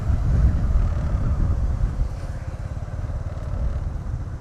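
A motorbike rides along a road south of Pattaya, its engine droning loud and steady under heavy wind buffeting the microphone throughout.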